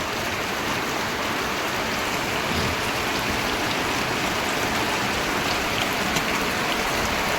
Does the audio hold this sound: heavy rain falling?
yes